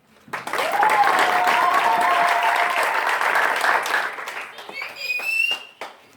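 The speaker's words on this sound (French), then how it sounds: "j'aimerais que vous puissiez aussi applaudir pour ces gens que vous ne voyez pas" Audience applause at a French-language concert or charity event, a dense burst of clapping that holds steady for several seconds then thins out, with a voice speaking over the fading end.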